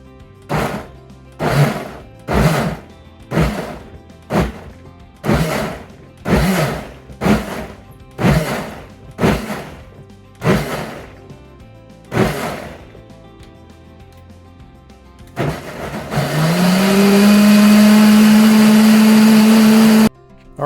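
A blender pulsing a tomato soup base into puree: about ten short, even bursts of motor whir in a steady rhythm, then one long continuous high-speed run, loud and close.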